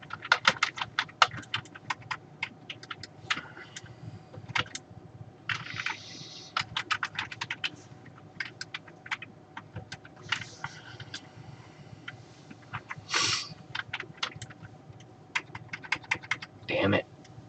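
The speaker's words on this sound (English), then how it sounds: "You guys should try typing when you have no feeling in your fingers." Typing on a computer keyboard, rapid irregular key clicks in bursts with short pauses, fairly close and quiet, with a few louder clacks and a low steady background hum.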